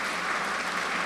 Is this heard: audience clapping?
yes